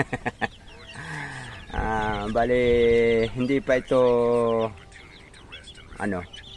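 A mother hen clucks with her young chicks hidden beneath her on a backyard farm, her low, drawn-out calls rising in loud bursts close by, with someone talking before and after.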